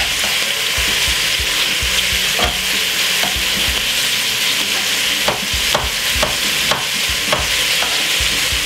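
Red cabbage stir-frying in a hot pan with green pepper for a Jamaican cabbage stir fry: a loud, steady sizzle with scattered utensil scrapes and clicks throughout, no voices.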